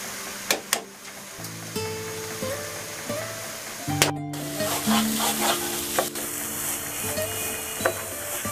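Washed, drained rice fries with spices in a pan for a vegetable khichuri, a steady sizzle with repeated scraping stirs and occasional clanks of the spoon against the pot, close and continuous.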